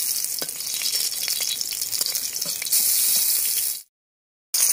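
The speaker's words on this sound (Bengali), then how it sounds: "পাতাটাকে খেতে মানে খাওয়া যাবে, একদম ভাজা হয়ে গেছে।" Dried shrimp paturi wrapped in bottle gourd leaves frying in hot oil, a loud close sizzle with light stirring that briefly rises, then cuts to near silence before resuming.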